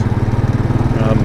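A small, zippy motorcycle ridden through New York City streets on a Monday morning, its engine putting out a steady, close, buzzing drone with a fast pulsing rhythm and no pauses.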